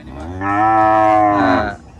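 A single loud, close cow moo, drawn out for over a second, at a cattle and buffalo market in Samet district, Kalasin, Thailand.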